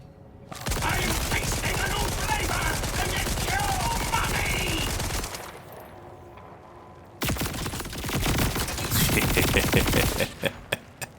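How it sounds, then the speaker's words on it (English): A Vladov SMG with Torque Sticky and an underbarrel taser in Borderlands 4 fires long rapid bursts, dense and loud, pausing briefly before another stretch of rattling fire ending in a few separate shots. "So I've got a Vladov SMG, or sorry, yeah, SMG with Torque Sticky, but also a taser."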